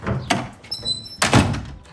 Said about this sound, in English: And you locked the door